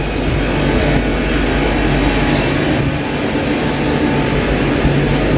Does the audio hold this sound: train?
yes